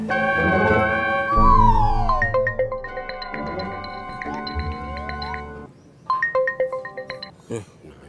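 Mobile phone ringtone playing a bright melodic electronic tune, loud and close, in several phrases with a brief gap before it resumes.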